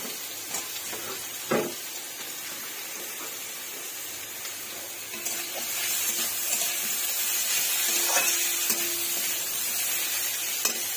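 Vegetables sizzle steadily in a frying pan as eggplant goes in, with a soft hiss throughout, occasional clinks and stirring scrapes, and the frying growing a little louder partway through.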